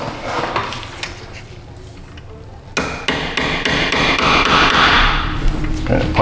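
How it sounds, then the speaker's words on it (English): Sharp metallic hammer taps on a center punch marking a cotter pin on a rusted Subaru subframe, several close strikes in quick succession after a quieter stretch of workshop noise. "We're just gonna center punch it and drill it real quick."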